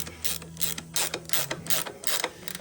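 A hand wrench ratchets in quick, uneven bursts of clicking while tightening a motorcycle axle adjuster plate during a tire change done by hand. The clicks are close and fairly loud, and a faint steady hum sits underneath.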